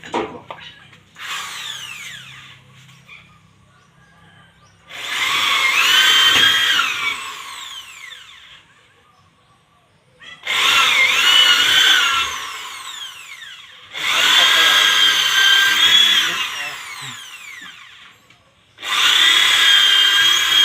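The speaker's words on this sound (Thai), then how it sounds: "ส่วนตัวหลังที่เจาะอยู่ก็" A power drill bores into wood in a workshop in loud whining bursts of several seconds each, separated by short pauses, with no talk.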